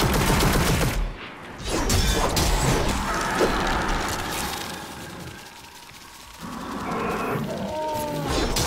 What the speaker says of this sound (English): Let hits land with loaded missiles. Press on launch several missiles in a volley